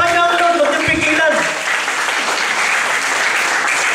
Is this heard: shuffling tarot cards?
no